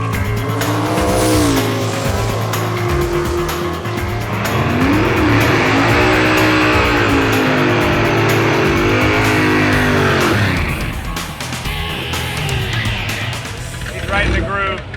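A drag race car at HOT ROD Drag Week revs hard and accelerates, its loud engine climbing through rising pitch for several seconds before the roar cuts off and quieter mechanical noise follows.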